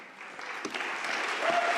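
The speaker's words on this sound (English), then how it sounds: "Huge round of applause for Nika, thank you." An audience at a PyConDE & PyData lightning talk session applauds steadily after a talk, a brief dense burst of clapping that stays even and moderately loud throughout.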